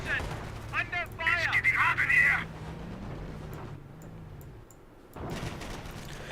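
An MG42 machine gun fires in the Company of Heroes strategy game, a rattling stream of gunfire and battle noise mixed under a commentator talking.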